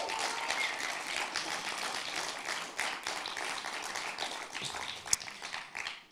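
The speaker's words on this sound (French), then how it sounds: "on peut encore les applaudir" An audience applauds the eight high school candidates of a public speaking contest with dense, steady clapping that holds an even level for several seconds before trailing off.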